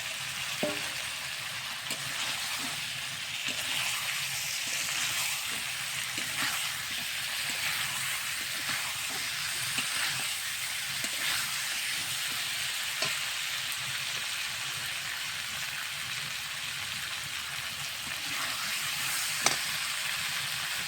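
Green bananas fry with spice paste in a pan, making a steady close sizzle that runs throughout, with occasional faint stirring taps and no voices.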